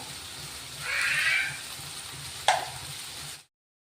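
Marinated prawns dropped into a hot pan set off a rising, hissing sizzle, followed by a sharp clatter and a continued fry before sudden silence.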